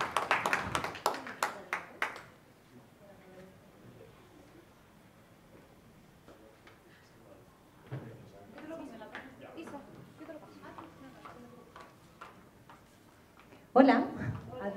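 An audience gives a short burst of welcoming applause for a guest speaker at a talk on aging with intellectual disability. The clapping fades quickly into quiet speech, and a second brief burst of claps comes near the end.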